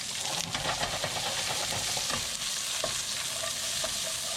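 Onions with a little red onion sizzle steadily in a hot pan while being stirred, a constant close frying hiss broken by scraping and clinking.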